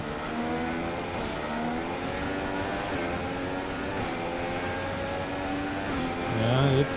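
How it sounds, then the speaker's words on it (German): A Formula 1 race car engine in the F1 2016 video game on PS4 at Bahrain gives a loud, continuous high whine that holds steady, then climbs in a rev near the end. "Okay, wir haben die schnellste Runde mal rausgeholt. Ricciardo, okay, wir fahren vor dem Ricciardo wieder raus"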